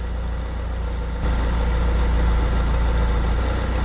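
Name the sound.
Ford E-series van engine idling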